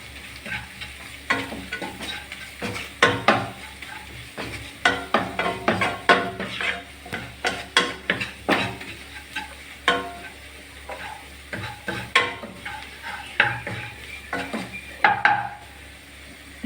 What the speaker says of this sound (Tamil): கடைச்சக்காய் உருளைக்கிழங்க எல்லாமே போட்டு நல்லா மிக்ஸ் பண்ணி விடலாம்